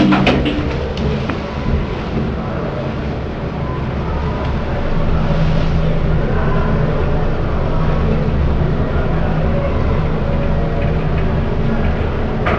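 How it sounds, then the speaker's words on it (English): Lift in the Pentagon Centre in Chatham descending, a continuous low rumbling drone with faint ticking and rattling, growing slightly louder partway through, with no talking. "lift going down."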